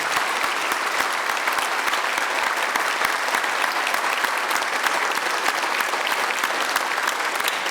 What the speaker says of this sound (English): Let's give another round of applause for these young people